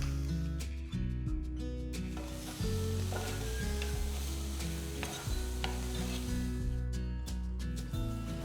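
Chopped spring onions stir-frying in a pan for cheese fried rice give a steady sizzle with stirring strokes, under steady background music.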